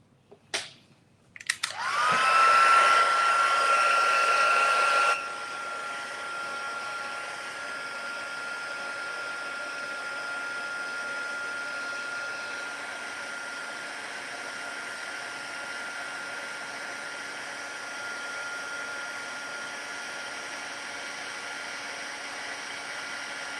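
Heat tool warming embossing powder on a Christmas craft card: a couple of clicks, then a loud whooshing blast of hot air that drops to a steadier, softer whirring hum running on alone.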